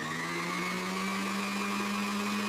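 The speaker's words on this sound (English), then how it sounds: "I blend the fruit." A countertop blender whirs steadily as it purées fruit, a loud continuous motor drone with a constant pitch and no voices over it.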